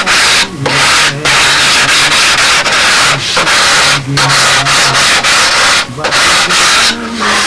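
Steady, loud rasping of a sanding block rubbed back and forth over a wooden model aircraft part, with brief pauses between strokes.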